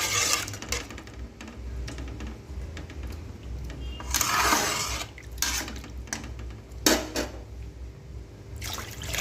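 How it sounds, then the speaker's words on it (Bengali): Water is poured into a pan of papaya and fish roe curry, giving a few loud splashing gushes and sizzles over steady kitchen background hum, with light clinks of utensils. "এবার জল দিয়ে দিলাম"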